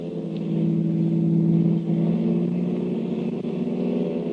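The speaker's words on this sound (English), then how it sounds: "Jumping into his own car, the Blue Beetle gave chase until out on the river road." A car engine from a 1940 radio drama chase along a river road hums and revs steadily at close range, building slightly then holding a continuous rumbling drone with no voices.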